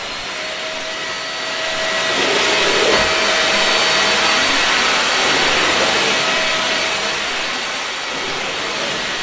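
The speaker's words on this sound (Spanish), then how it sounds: "En tercero A tenemos una aspiradora mágica" A vacuum cleaner whines steadily throughout, its loud motor drone swelling slightly and holding, with no talking.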